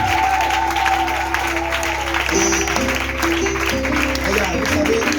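A congregation claps at a prayer service, a broad steady wash of applause that runs the whole time beneath sustained singing or music.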